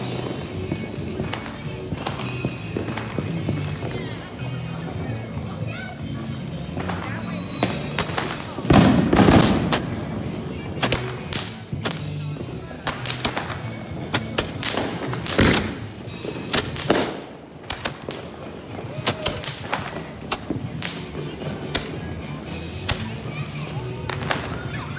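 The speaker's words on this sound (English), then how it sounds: "They're like the firework muskets. They shoot the balls." Firework muskets firing balls during a Fourth of July celebration, a series of sharp cracks and pops at irregular intervals, some loud and close, with people talking in between.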